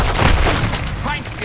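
Booming grenade blast in Call of Duty: Modern Warfare 2 multiplayer, a loud close burst with crackling debris over ongoing game noise, while a voice calls out over it.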